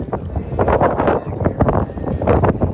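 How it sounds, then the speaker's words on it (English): Strong gusts of wind buffet the microphone at Sandals Royal Caribbean resort, a continuous rumbling roar that swells and dips throughout. "and again, I apologize for the wind."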